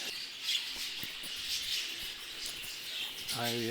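Steady high chirping and tweeting of small birds fills the background, with a voice starting to speak right at the end.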